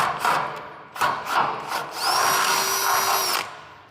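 Power drill boring through the sheet metal of a C10 pickup truck, loud and close with a steady high whine, in short bursts that give way to one long sustained run.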